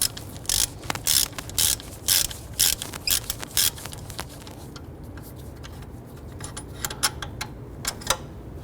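A hand ratchet loosens a 15mm bolt at the bottom of the alternator on a Ford Mustang 3.8L, giving bursts of rapid close clicking in repeated strokes, then lighter scattered clicks as the bolt frees up.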